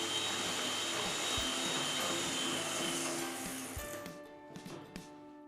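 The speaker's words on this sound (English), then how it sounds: "going to whip up the egg yolks with half of the sugar till they look pale and thick" An electric mixer whips egg yolks with sugar in a steady, whirring drone that runs for several seconds, then slows and cuts off, leaving a few faint clicks and knocks.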